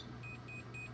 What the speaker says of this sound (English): it beeps at you